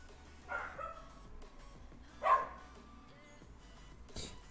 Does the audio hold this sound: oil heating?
no